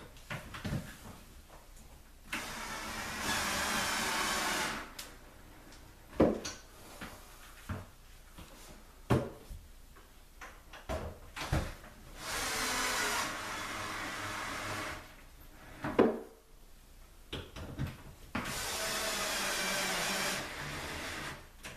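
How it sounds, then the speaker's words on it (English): Cordless drill driving screws into a wooden cubby, a series of whirring bursts of a few seconds each, broken by clicks and knocks of handling, close and fairly loud. "drive my screws in there"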